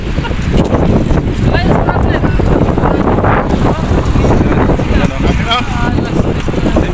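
Heavy wind buffeting a microphone during a bike ride in Abu Dhabi, a constant loud roaring rumble throughout with faint voices mixed in underneath.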